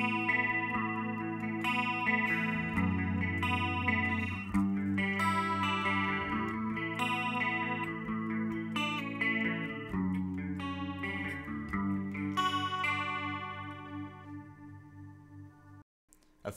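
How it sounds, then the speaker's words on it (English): An electric guitar played through a chorus effect pedal, chiming sustained chords and arpeggios with a shimmery, slightly metallic doubled tone, steady and fairly loud throughout and ringing out alone near the end. "chorus is a modulation effect. It modulates the pitch slightly to make it sound like there's more than one guitar playing"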